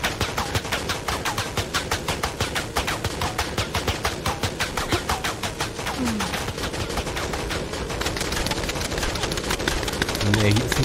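Rapid automatic gunfire from the action game Shadow of the Tomb Raider rattles in a continuous fast stream of shots, steady and moderately loud throughout.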